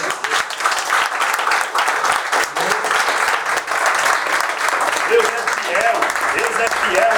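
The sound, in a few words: church congregation applauding for Jesus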